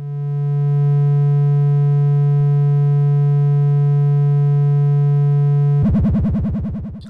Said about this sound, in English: Okay, that gives us a weird wobbly sound.